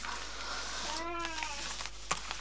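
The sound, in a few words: cat meowing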